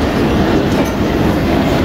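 Pakistan Railways' Jaffar Express pulls out of Kolpur railway station, a loud continuous rumble of rolling rail cars with rhythmic wheel clatter, heard from on board.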